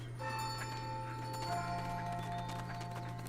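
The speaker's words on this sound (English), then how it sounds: "it does that little bell for high noon" Soft, sustained chiming bell tones marking high noon in the video game Pikmin 4, ringing gently over a steady low hum of game ambience, faint and unaccompanied by talk.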